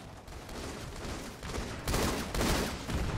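Dense, continuous gunfire from a Halo 2 Anniversary Team Slayer match on the Bloodline map, loud bursts swelling louder toward the end with no pause between shots.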